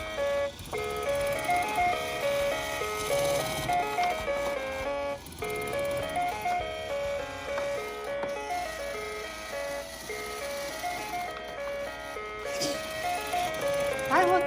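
A toy claw machine plays a bright, tinkly electronic tune that speeds up as time runs out, heard steadily at moderate volume while several people talk excitedly over it.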